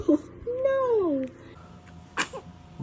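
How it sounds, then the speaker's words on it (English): A newborn baby lets out a single sharp, quick sneeze close by, after a brief high vocal sound, with soft room noise around it. "Were you about to sneeze?"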